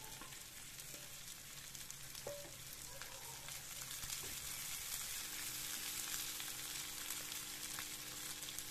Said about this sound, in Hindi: और अब ऑनियन डालेंगे स्लाइस में कटे हुए। इसे अच्छे से हम भून लेंगे।